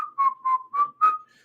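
A person whistles a short tune of four or five clear, steady notes with brief gaps, close and alone with no talking.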